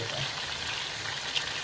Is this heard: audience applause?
no